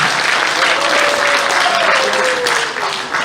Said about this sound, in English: Hand of applause for attitude!